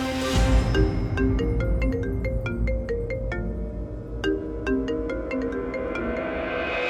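A melodic electronic phone ringtone plays loudly over a low backing beat, its bright chiming notes repeating in a steady pattern with no talking.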